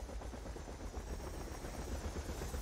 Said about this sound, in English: Helicopter down very, very low.